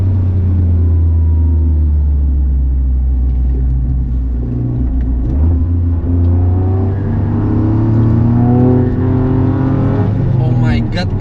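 A fast car on a Mandalika circuit track day gives a loud, steady engine roar and drone throughout, holding near and constant with a rising pitch toward the end, while voices talk over it.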